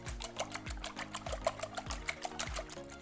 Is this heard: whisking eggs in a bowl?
yes